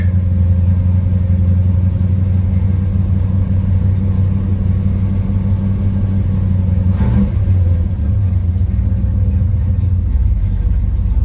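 A 1967 Chevelle SS with an original 396 V8 idles with a deep, steady, throaty rumble, loud and close, holding a constant note throughout with no one speaking.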